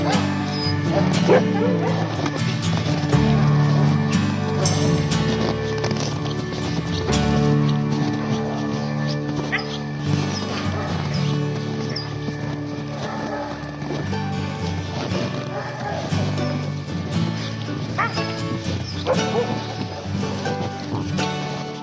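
Loud, continuous chorus of many sled dogs barking and yipping together, overlapping yelps and whines filling the whole stretch without pause.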